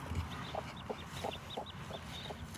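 A broody hen clucks softly and repeatedly over her chicks, close by and in short, evenly spaced bursts, with faint high peeping around it.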